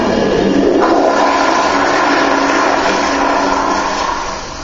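A toilet flushes with a bikini top in the bowl, a loud, close rushing of water that holds steady for several seconds before easing slightly at the end.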